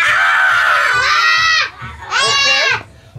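An adult voice imitates a small child's temper tantrum with two loud, shrill, wavering screams, the first long and sustained, the second shorter after a brief pause.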